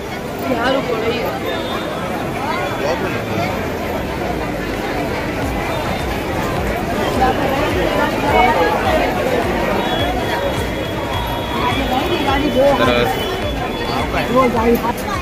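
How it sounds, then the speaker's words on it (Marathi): Dense crowd bustle on a packed Virar railway station platform, a continuous murmur of many overlapping voices and footsteps filling the whole stretch at steady loudness. "तर बघा किती गर्दी आहे भरपूर."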